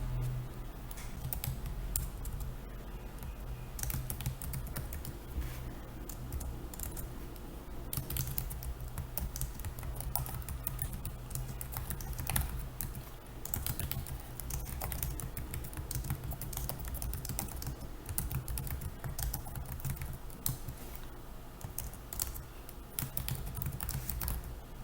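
Steady typing on a computer keyboard while composing an email, a continuous patter of close, light keystrokes running throughout with no talk.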